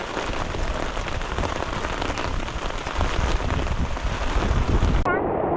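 Steady rain pours down on a forest campsite, a dense, constant patter close by with some wind buffeting the microphone and no break in the downpour.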